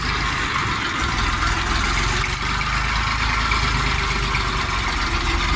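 A Jinma 244 tractor's diesel engine idles steadily nearby, a continuous mid-to-low rumble with a hissing background and no talk.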